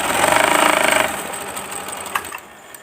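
An umbrella-type sewing machine stitches fabric in a loud, rapid mechanical whir for about a second. It then drops to fainter rattling and scattered clicks.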